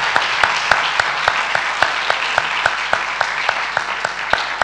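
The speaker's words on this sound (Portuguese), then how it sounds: "Acho que merece uma salva de palmas." A small audience at a conversation event claps steadily for several seconds, with individual sharp claps standing out from a dense, close wash of applause.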